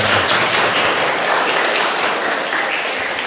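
Classroom applause for a female student, a steady wash of many hands clapping together for a few seconds at close range, with no one speaking over it.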